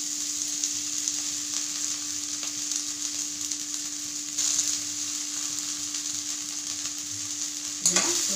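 Fenugreek leaves frying in a pan give a steady, soft sizzle with a constant hum beneath it, and a short clatter of stirring comes near the end.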